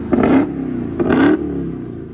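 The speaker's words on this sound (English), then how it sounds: "My guy likes to rev it too." A 2022 Dodge Charger SRT Hellcat with a 6.2L supercharged HEMI V8 and straight-pipe exhaust revs twice in quick succession, loud and close, each rev rising and falling back to a rumbling idle.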